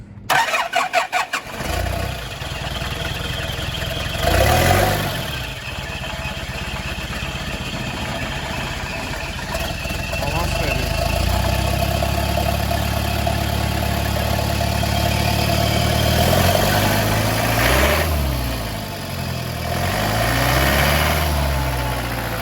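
A Nissan BD30 turbo diesel engine in a Land Rover Defender 130 cranks and catches on its first start, then settles into a steady, loud rumbling idle close by, with a few revs rising and falling toward the end.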